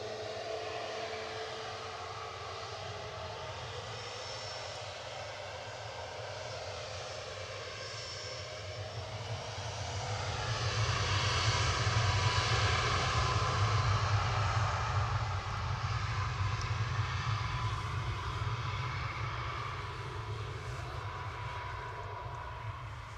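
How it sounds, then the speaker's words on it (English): A Ryanair jet lined up for departure to Krakow at Manchester Airport, its engines holding a low distant rumble that swells into a louder roar midway, then eases slightly while still running, with no speech. "Ryanair 9H VUN lined up, going off to Krakow, flight 2141."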